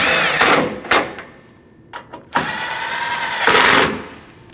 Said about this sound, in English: Now we can install our transmission cooler bolts. Tighten both of those.